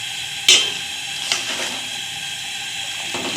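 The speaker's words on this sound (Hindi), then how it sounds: "अब हम इसको मिक्स करते हैं, फैलाते हैं चावल" Vegetable pulao rice being stirred and spread in a pot, close scraping and shuffling with a couple of sharp clinks and a soft sizzle underneath.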